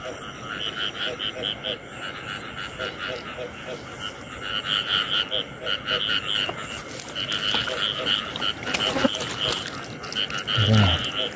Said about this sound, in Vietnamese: Đây nè, một con ếch vàng, một con ếch cái.